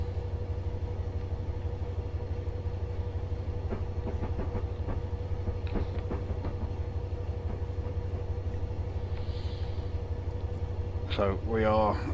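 A Class 57 locomotive in Train Simulator Classic crossing points, with a steady low engine drone and faint clicks from the wheels over the track joints. A voice speaks briefly near the end.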